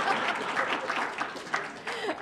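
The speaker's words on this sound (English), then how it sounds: "So you can clap on that," Audience clapping at an academic award talk, a moderate patter of hands heard alone for a couple of seconds.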